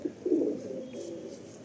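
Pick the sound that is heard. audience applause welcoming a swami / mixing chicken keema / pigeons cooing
pigeons cooing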